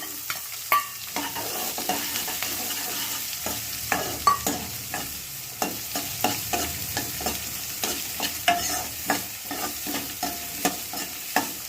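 Onions frying in a pan for a Palnadu-style brinjal curry, with a spatula stirring and scraping in a steady repeated rhythm over a constant sizzle, close and clear, no talking.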